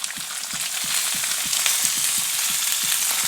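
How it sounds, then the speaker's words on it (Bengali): Chopped onion sizzles in hot oil with ginger and garlic for a bread chop filling: a constant bright hiss broken by regular soft scraping taps of a spatula, close and fairly quiet, with no voices. "পেঁয়াজটিকে এখানে লাল লাল করে ভেজে নেব।"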